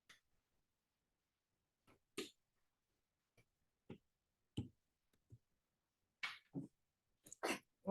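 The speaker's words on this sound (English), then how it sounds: "Okay, bless you." A few scattered sharp sneezes in a quiet math classroom, spaced apart with several faint clicks and small noises between them.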